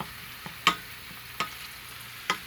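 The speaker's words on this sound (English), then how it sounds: "I've got some high quality olive oil cooking on medium with some onion and garlic from our garden" Onion and garden garlic cooking in olive oil over medium heat: a low, steady sizzle underneath, broken by three or four sharp clicks or taps of a utensil on the pan, close and fairly quiet.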